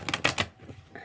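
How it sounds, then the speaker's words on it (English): Thick, stiff oracle cards that bend poorly being riffle-shuffled, giving a few quick crisp bursts of flapping and clicking close up, then a softer quieter patter as the deck settles. "These cards are kind of thick and don't bend well, so they don't shuffle really well."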